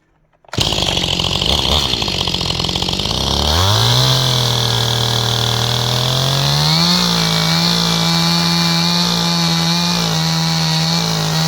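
A power saw roars loudly and continuously while cutting timber for a diagonal fencing stay, starting up abruptly then settling into a steady droning pitch as it bites through the wood.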